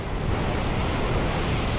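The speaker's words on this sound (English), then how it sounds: "And look at the waves just coming flying underneath it." Large North Sea waves crash and surge along the Scottish coast in a loud, continuous roaring wash, mixed with wind buffeting the microphone.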